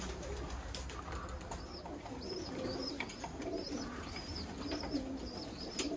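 Roller pigeons coo softly inside a stock loft, repeated low murmuring calls overlapping at close range with occasional higher chirps over a steady background hum.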